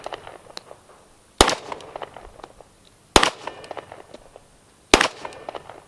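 Sig Sauer P320 X-Ten pistol fired at a range, three sharp loud shots spaced roughly two seconds apart, each with a quick bright crack and short decay, with faint handling noises between.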